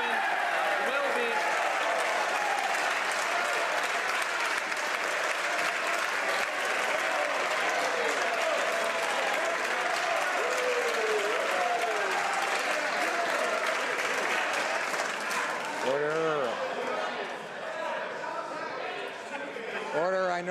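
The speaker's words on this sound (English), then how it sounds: "I know members are anxious to applaud the Prime Minister" Members of the House of Commons give sustained, dense applause that fills the chamber, with a crowd murmur underneath that tapers slightly at the end.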